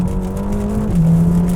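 A 2021 Ferrari Roma engine pulling hard, a loud close droning roar whose pitch climbs, drops at a gear change, then builds again.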